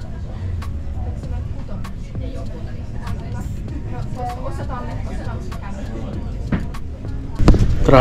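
Rush-hour road traffic in Finland hums steadily as a low roadway rumble heard from inside a moving car, with a few faint clicks and a brief louder rustle near the end.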